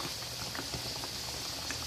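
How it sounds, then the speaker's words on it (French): Banana pieces deep-frying in hot oil, a steady, soft bubbling and crackling sizzle with faint irregular pops throughout, heard close and without talk. "les morceaux de banane sont en train de frire"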